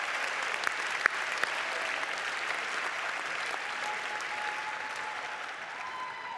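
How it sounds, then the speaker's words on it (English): An audience at a fall university commencement applauds, steady, dense clapping from a large crowd that carries on evenly throughout, with a few sharper claps standing out. "let's give them a big round of applause"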